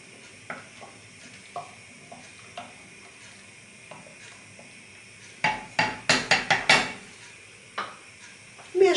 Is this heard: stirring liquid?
yes